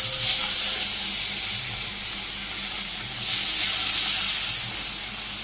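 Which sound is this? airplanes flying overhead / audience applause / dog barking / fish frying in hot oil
fish frying in hot oil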